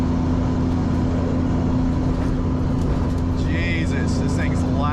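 A 500 horsepower Nissan 240SX driven on back roads, with a loud low engine drone and a steady hum inside the cabin, plus some higher whines and rattles near the end.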